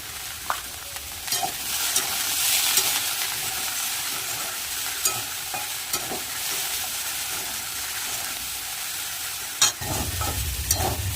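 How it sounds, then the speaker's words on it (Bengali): Cauliflower, potato and onion frying in a pan, a steady hissing sizzle broken by periodic scraping stirs, with a louder knock and rumble near the end. "ফুলকপি আলু পেঁয়াজ কিন্তু ভাজা কমপ্লিট নামিয়ে নেব"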